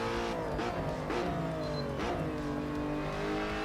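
A Lotus Evora in a racing sim game revs hard and close, its engine pitch climbing and falling through several gear changes with a steady, continuous roar and no talk.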